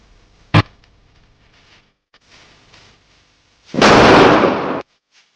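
Firecrackers in an advertisement for a fireworks shop: one sharp, loud pop, then a quiet gap, then a dense, roughly one-second burst of crackling explosions that cuts off abruptly, with no talking.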